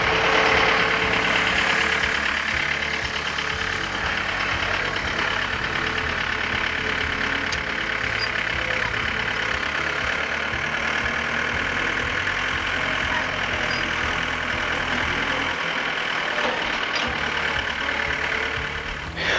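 Tractor engine running steadily while dragging an arena to break up high spots, a continuous mid-pitched drone at constant loudness throughout, with no voices.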